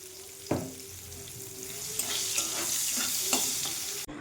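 Bitter gourd slices frying in oil in a kadai, with a constant close sizzle broken by a few knocks and scrapes of the spatula, no talking.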